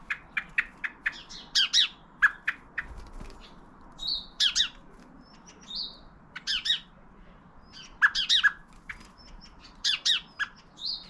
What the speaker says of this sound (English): we witness a vocal visit from the blackbird, accompanied by his friend the sparrow